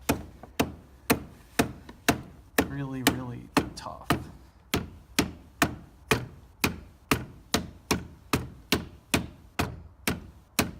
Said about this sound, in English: Nothing like a little dead blow hammer to get